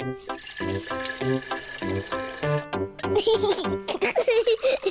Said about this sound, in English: let's fill it with water